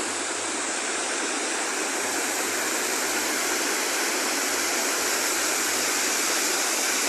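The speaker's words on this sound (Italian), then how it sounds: "questo torrente che in questo punto è piuttosto impetuoso e fa una bellissima cascata" Powerful rushing water roars without a break, a loud close torrent pouring over a waterfall, with no voices.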